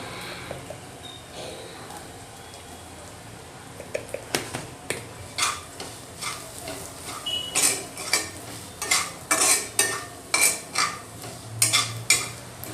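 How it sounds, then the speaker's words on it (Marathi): A spoon scrapes and taps against a pan while brinjal bharit with turmeric is sautéed over a low flame. The clicks start sparse, then become a steady, close, rhythmic clatter with a faint sizzle beneath. "स्लो गॅसवर परतावायचे. वरण घालतोय थोडीशी हळद."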